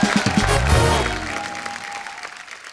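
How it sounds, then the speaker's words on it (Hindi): A studio audience on a comedy talk show applauds the team of a Hindi film, the clapping loud at first under music and voices before thinning out. "पूरी टीम के लिए जोरदार तालियां"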